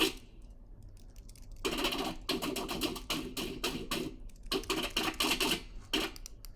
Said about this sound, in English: liquidy, metallic sound effect.